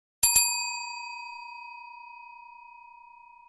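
A bright notification bell dings twice in quick succession, then one clear tone rings on and slowly fades over several seconds, alone with no voices.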